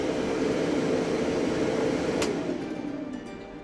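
A running fan whirs steadily and fairly loudly, then winds down as it is switched off, the hum dropping away near the end; a single brief click sounds midway.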